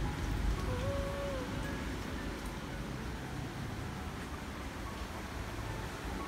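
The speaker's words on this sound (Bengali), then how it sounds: "যে পানির ঝাপটা আসে, বৃষ্টি আসে।" Steady rain pours outside an open home balcony, water splashing in, as a dense, even hiss of falling drops holds throughout with no break, close and moderately loud, with a faint tonal whine briefly riding over it.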